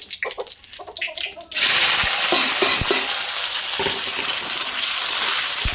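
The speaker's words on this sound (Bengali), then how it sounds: "এটা একটু ব্রাউন ব্রাউন ভেজে নেব" A tempering of cumin seeds and dried red chilies in a pan. Quiet stirring comes first, then hot oil flares into a loud, steady sizzle with occasional spatula scrapes, close by and with no talking.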